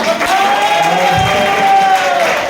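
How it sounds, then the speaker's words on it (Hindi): An audience at a network marketing meeting claps and cheers, a full, steady burst of applause lasting the whole moment, with a faint tonal hum beneath. "एक बार जोरदार तालियां हमारे नेशनल टीम वर्क के लिए।"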